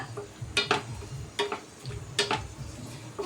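Onion, green chilli and curry leaves sautéing in oil, with a spatula scraping and clicking against the pan in short repeated bursts over a soft, low sizzle and hum.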